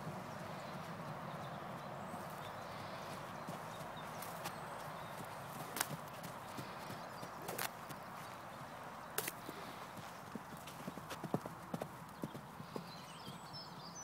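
A horse clip-clops along at a run, with rhythmic hoofbeats at a moderate distance, scattered sharp knocks and faint background noise.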